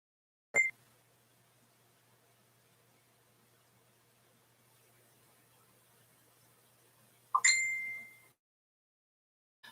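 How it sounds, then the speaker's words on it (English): A phone gives two bright notification dings several seconds apart in a quiet room, the second followed by a brief fading hiss. "my phone is going crazy"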